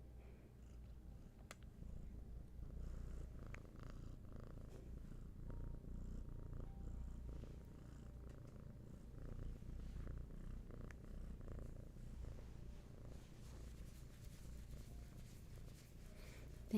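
Continuous low purring from a nearby cat, a soft, even rumble that runs unbroken throughout with no voices over it.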